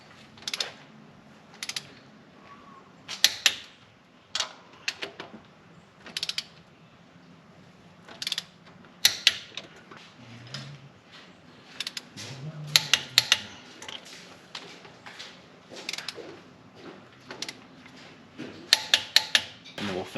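A torque wrench tightens bolts on a barn-find Ford Fairlane in steps up to 70 foot-pounds. Sharp, irregular ratcheting clicks and creaks come close by, separated by quiet gaps.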